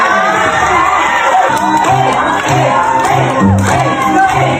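Crowd cheering and shouting for Marian Rivera as she dances, loud and steady throughout with whoops and raised voices, clapping not clearly separable from the din.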